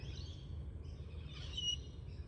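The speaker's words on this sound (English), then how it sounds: "see that noise here that you can hear is a king parrot" A king parrot calls in short high chirps over a steady low background hum, faint and somewhat distant, with no one speaking.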